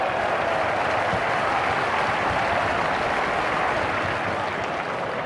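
Stadium crowd applause in a FIFA 12 football match between AS Monaco and Juventus, a dense, continuous roar of clapping that holds steady and fairly loud throughout.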